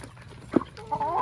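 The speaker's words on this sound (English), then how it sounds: "Feeding out the chickens." Chickens being fed in a backyard give a brief cluck or two, close by, with a faint murmur of activity around them.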